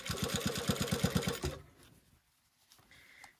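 A sewing machine is hand cranked slowly while sewing pants, giving a close run of about a dozen even mechanical clacks over roughly a second and a half, then near silence with faint handling noise.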